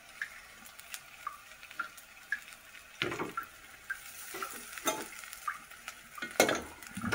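Poha being stirred in a pan, a quick dish that needs no real cooking: irregular bursts of scraping and rustling over a faint, steady background hiss, growing busier and louder in the second half.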